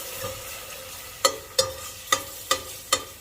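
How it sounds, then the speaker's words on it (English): Coconut milk cooking in a pan, a soft continuous bubbling sizzle punctuated by five sharp spoon taps against the pan in a loose rhythm, close and fairly quiet. "I'm gonna let the coconut milk cook a little bit."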